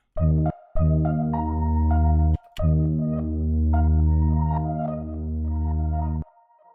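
A looping synthesized tone with steady harmonics, rhythmically chopped and gated by the Effectrix plugin in FL Studio, cutting out briefly before resuming; loud and alone, no voices.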